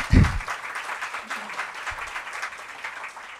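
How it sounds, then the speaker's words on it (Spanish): Applause for a contest at the CNO 2019 launch event, a broad wash of clapping that starts with a low thump and carries steadily through, fairly quiet and even, with faint voices mixed in. "Un fuerte aplauso para el concurso, por favor."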